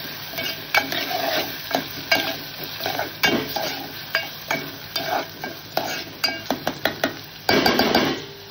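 Onions cook in a pan while a spoon stirs them, giving a continuous frying sizzle with repeated scraping and clinking strokes against the metal, close and clear, speeding into a busier burst near the end.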